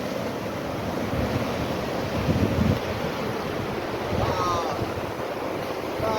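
Sea waves breaking at the shore beside a hilltop fort, a steady broad roar of surf washing in and out, mixed with gusty wind buffeting the microphone.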